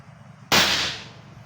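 A single sharp crack from an air rifle firing a pellet, fitted with a new O-ring type swing on the receiver, loud and close, followed by a brief fading tail in an otherwise quiet setting.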